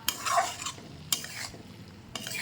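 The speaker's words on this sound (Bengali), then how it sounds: "চলো রান্না শুরু করি তো আজকে রান্না করছি কচুর শাক" Taro leaves (kochur shak) being stirred in a pan in a village kitchen: three separate scraping, rustling strokes, the first one long and busy, the others short, close and fairly quiet, with no talking.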